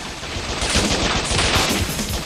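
Sustained machine gun fire in a run-and-gun video game, a dense, loud stream of rapid shots with no pauses.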